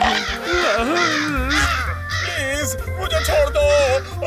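A cartoon crow caws loudly and repeatedly in harsh, rising calls, mixed with excited animated voices and background music.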